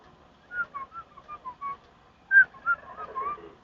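A person whistles a soft, wavering tune of short notes, pausing briefly midway before continuing; no talking.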